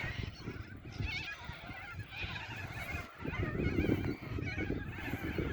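Flock of corellas calling outdoors in a Queensland garden in midwinter, harsh screeching cries overlapping continuously at moderate distance, no talk.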